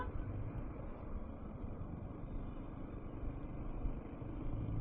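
Large vehicles roll past on a road in Buton, a continuous low engine drone and tire noise at moderate distance, steady with no talking.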